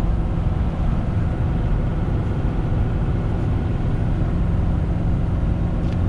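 Pickup truck in 7th gear at about 2500 RPM, accelerating while towing a 30,000 lb load, a steady loud low engine drone that holds even throughout, with no talking.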